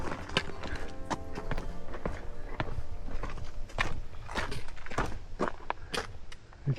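A big bearded billy goat walks on a rocky hiking trail in the Warrumbungles, NSW, its hooves making irregular, close, sharp clops over steady outdoor background.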